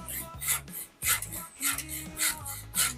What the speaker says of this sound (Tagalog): Mabilis mapuro lang lagari kapag kang nilalagari mo kawayan